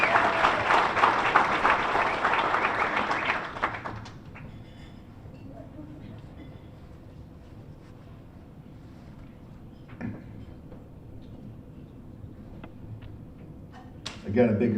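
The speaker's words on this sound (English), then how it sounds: "Let's give them another big round of applause" At a sports awards luncheon, the audience applauds scholarship winners with a loud burst of clapping for about four seconds before it cuts off into quiet room noise, with faint voices and a brief clatter near the end.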